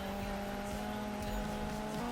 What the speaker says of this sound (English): you suddenly get a car coming past you at rapid speed